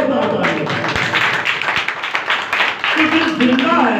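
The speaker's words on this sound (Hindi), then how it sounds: "जिंदा खुदा के लिए जोरदार ताली।" A church congregation at a Pakistani Christian ministry gathering breaks into loud, sustained clapping, a dense wash of hands filling the hall with a voice speaking over it.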